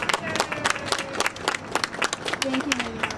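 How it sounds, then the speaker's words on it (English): Scattered applause from children and adults at a school literacy celebration visited by the New York City mayor. Sharp claps are mixed with voices talking over them. "So I'm going to give you a round of applause."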